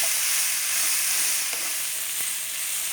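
Snake gourd curry sizzling steadily in a pan, a continuous bright hiss of frying with a few faint stirring clicks, close and alone without any voices.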